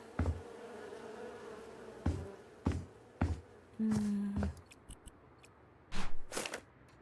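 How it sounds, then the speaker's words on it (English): A bee buzzes in a low, steady drone for about a second in House Flipper 2, surrounded by scattered clicks and taps in an otherwise quiet space. "I hear bees."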